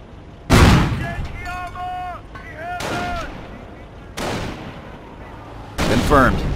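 Gunfire and artillery in the Company of Heroes battle set during the invasion of Normandy: four heavy, booming blasts spaced a second or two apart, with shouted voices between them.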